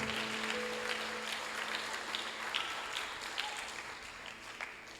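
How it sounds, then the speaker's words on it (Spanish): Church congregation clapping in praise, a fairly faint, steady wash of applause from many people in a reverberant hall, with a sustained tone underneath at the start. "Dele fuerte ese aplauso al Señor."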